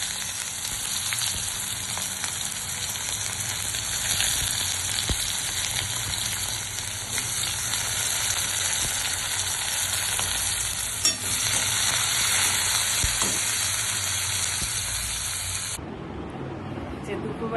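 Onions fry in a hot pan with a steady, loud, close sizzle throughout that cuts off abruptly near the end.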